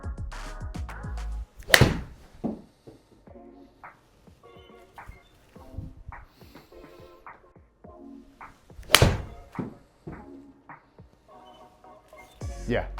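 Golf irons striking balls on test shots, two sharp, loud clicking impacts several seconds apart, with quieter thuds and a person talking between them.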